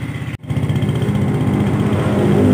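A Honda Jupiter motorcycle engine revs under throttle after a fix for a stall and dead lights, a loud close steady buzzing drone following a brief drop in sound near the start.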